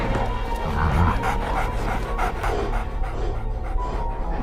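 A fighting dog in a dog fighting arena pants steadily and close up, quick rhythmic breaths over a constant background din, with no speech.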